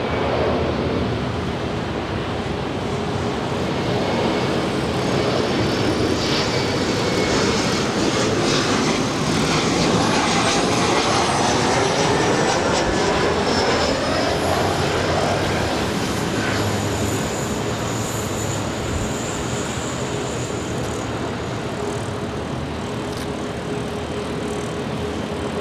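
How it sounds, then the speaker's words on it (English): An Emirates Airbus A380-800, three years old, departs Los Angeles for Dubai, its four jet engines building a loud, steady broadband roar with rising whine tones that swell and hold for the whole stretch. "this is Emirates Flight 216 heading back to Dubai. It's an A380-800, just 3 years of age"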